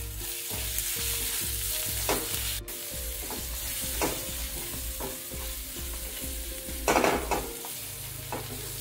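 Masala sautéing in a pan for dal khichdi, with turmeric and garam masala: a steady sizzle under a low hum, punctuated by a few soft scrapes and taps of stirring, close and with no voices.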